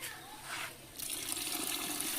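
Water and milk are poured from a vessel into a large pot of white biryani being cooked for 30 people, a soft, faint splashing that grows fuller and steadier midway.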